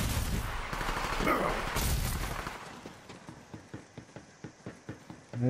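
Gunfire in Borderlands 3: a dense, loud burst of shooting, then a steady run of sharp, evenly spaced single shots that fades to a quicker rhythm at the end, with no talking.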